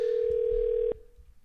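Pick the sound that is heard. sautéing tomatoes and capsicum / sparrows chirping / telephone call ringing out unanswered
telephone call ringing out unanswered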